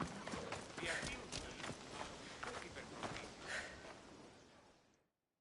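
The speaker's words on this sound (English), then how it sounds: "That's a nice horse, Socrates. It's a very nice horse. A sturdy horse." A horse's hooves clip-clop at a walk in the video game Assassin's Creed Odyssey, a rhythmic run of close thuds under game dialogue before the sound cuts out.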